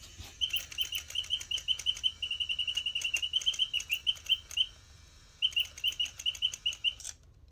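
A wind-up antique toy bird in a small cage chirps in rapid mechanical bursts, bright repetitive tweets with a short pause before resuming, close and clear.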